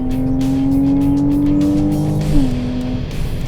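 A Porsche Cayman R engine revs hard under acceleration, a loud sustained tone rising steadily before a sudden near-instant drop at a paddle-shifted gear change, then pulling on again up close.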